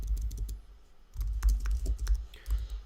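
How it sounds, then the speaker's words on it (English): Clicks and taps on a computer keyboard come in quick irregular bursts during a podcast, fairly close and moderately loud, with low room rumble beneath and a short pause in the middle. "Hold on, just typing something."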